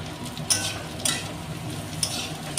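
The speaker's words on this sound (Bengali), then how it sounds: "আলুগুলো নাড়াচাড়া করে ভেজে নিয়েছি" Thin-cut potatoes and green chillies fry in a pan with a soft steady sizzle, broken by a few sharp scrapes and taps as a utensil stirs them, with no talking.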